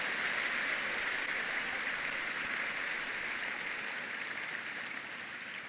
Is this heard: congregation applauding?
yes